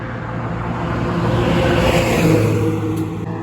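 A car drives past on a street close by, its engine and tyre noise rising to a loud peak and fading slightly, heard alone without talk.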